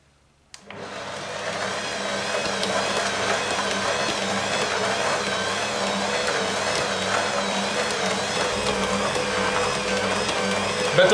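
A stand mixer kneads bread dough on first speed, a steady loud motor whir that starts abruptly after a moment of near silence and runs on evenly without talking.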